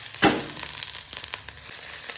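Chilli gobi fries in a pan in a home kitchen, a sharp sizzling burst near the start, then softer crackling and spitting that continues close by with scattered light clicks, and no voices.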